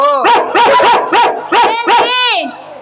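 Several dogs bark and yelp in a quick run of about half a dozen loud, close, harmonic barks, ending in a drawn-out whining cry.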